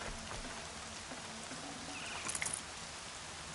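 Rain falls in the Horizon Zero Dawn game as a faint, steady hiss and soft patter with no voices.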